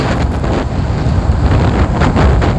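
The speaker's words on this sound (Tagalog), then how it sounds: "malakas pa rin yung hangin" Strong wind at a beach resort in Palanas, Masbate buffets the microphone in loud, gusty roars, with a faint wash of surf behind it.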